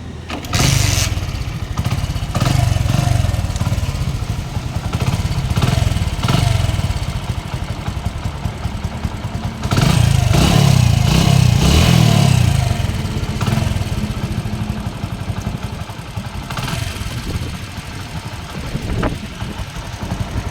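An engine of a 2004-model motorcycle in neat, good condition starts up and runs with a loud, steady rumble close by. The revs rise briefly midway, then settle back to an even idle with no talking.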